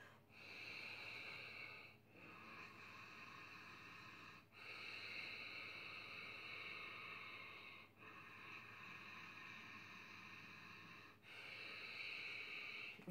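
Steady Ujjayi pranayama breathing drawn through the nose with the mouth closed, a loud continuous throaty hiss in long strokes, four brief pauses marking each turn of the breath, close and alone.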